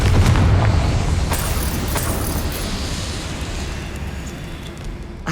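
A Confringo fire spell erupts in Hogwarts Legacy with a loud, booming blast that rolls into a steady, roaring rumble lasting several seconds, heard alone without talk.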